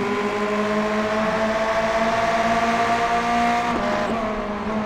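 Ferrari race cars roar around a track in a racing game, a sustained loud engine note with shifting pitch and a short dip near the end as the car shifts or lifts.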